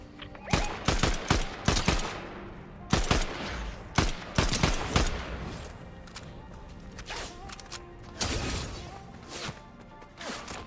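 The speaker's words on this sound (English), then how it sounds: "Getting sniped." Fortnite gunfire: a rapid volley of sharp shots, then more bursts of loud, crackling reports spread across the span with short gaps, no voices.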